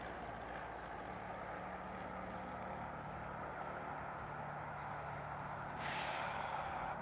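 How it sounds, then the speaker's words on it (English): An airplane passes overhead as a faint, steady, broadband rumble that swells slightly near the end, with no voices. "You see more planes on Fridays than any other day."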